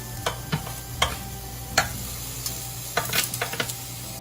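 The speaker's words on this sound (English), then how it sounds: "I've chosen to cook them in the pan with just a little olive oil" Aubergine slices frying in a pan with a little olive oil, giving a steady close sizzle broken by repeated sharp crackles and spatters.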